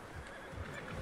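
A horse in the Red Dead Redemption 2 game lets out a neigh, a fairly loud, rough whinny over busy in-game background noise, with no speech over it.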